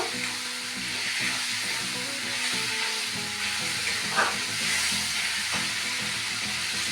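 Water hits a hot pan of frying chilli powder, nigella seeds, cumin and ginger, giving a steady close-up sizzle and hiss that carries on throughout.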